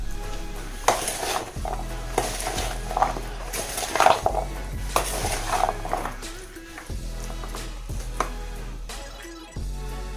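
Chana chaat gets mixed in a bowl with chaat masala and tamarind chutney, close clinks and scrapes of a spoon against the dish repeating in an uneven rhythm over a low steady hum.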